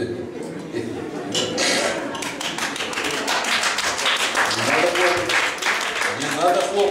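A group of people claps hands in a lively, uneven patter of sharp taps, with voices and chatter mixed in throughout.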